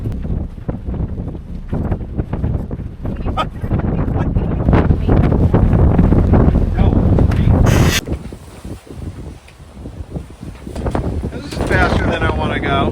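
Strong wind buffets a sailboat heading into the wind, with loud gusty rushes and microphone wind noise, water sloshing and boat creaks; the roar drops briefly near the middle before rising again.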